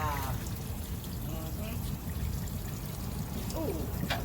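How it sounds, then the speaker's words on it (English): Tidal water drains out of a swamp on a Cajun swamp tour, a steady pouring trickle under a constant low boat rumble, with a voice speaking over it. "All the water's coming out of the swamp."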